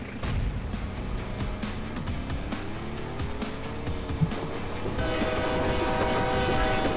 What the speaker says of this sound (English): Hell yeah, jump the train.